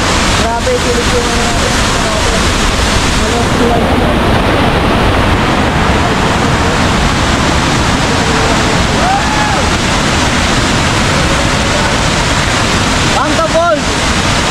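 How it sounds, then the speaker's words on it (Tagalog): Mangta Falls in Bakun, Benguet roars as a steady, loud, close rush of falling water that fills the whole span without letup, with faint voices occasionally audible beneath it. "dito tayo ngayon sa Mangta Falls"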